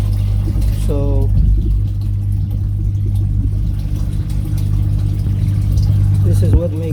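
The motor of an Eheim Quick Vac Pro automatic gravel cleaner runs with a steady low hum throughout, while a voice talks over it intermittently.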